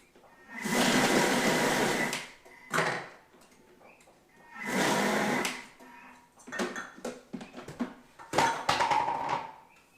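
A Thermomix grinds homemade laundry powder in loud, roaring bursts of about two seconds each, with shorter pulses and clattering handling noises between them.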